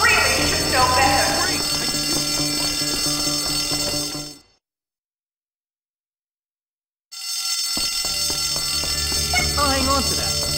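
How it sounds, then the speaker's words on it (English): A school fire alarm in the video game Bully Scholarship Edition on Xbox One rings loudly and continuously, cuts out for a few seconds of silence, then starts ringing again. "Someone pulled the fire alarm! Please do not pull the fire alarm!"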